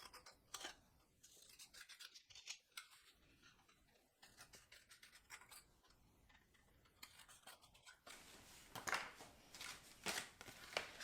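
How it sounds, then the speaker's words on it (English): Snips cutting through handmade card stock up to a score line, a run of short crisp snipping clicks, close and fairly quiet, growing busier and louder toward the end with no talk. "take our snips and simply snip right up to that score line"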